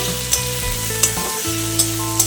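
Potatoes and onions fry in hot oil with a steady sizzle, punctuated by a few sharp clinks of a spatula stirring the pan, while music plays underneath and no one speaks.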